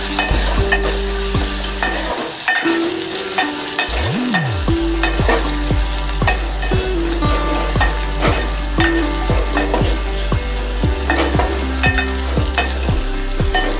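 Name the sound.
onion frying with red chillies, curry leaves and asafoetida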